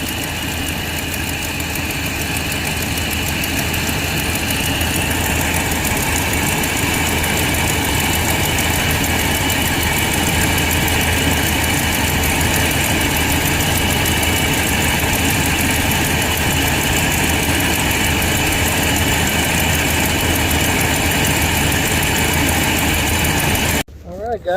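A car engine fitted with a newly installed Edelbrock 2161 intake manifold idles smoothly and steadily at close range for a long stretch, then cuts off abruptly at the end.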